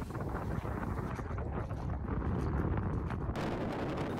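Strong wind roars across open coastal mudflats, buffeting the microphone in a loud, continuous rush with no voices.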